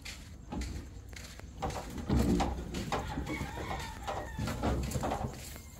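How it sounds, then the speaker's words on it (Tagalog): Chickens clucking nearby amid seaside outdoor ambience in the Philippines, short bursty calls repeating over a few seconds. "may manok"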